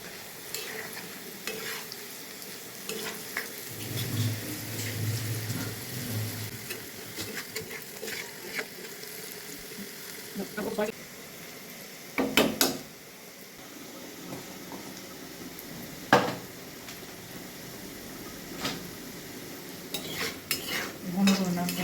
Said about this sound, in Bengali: তেলে ভাজতে হবে